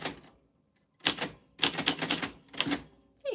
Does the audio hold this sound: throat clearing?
no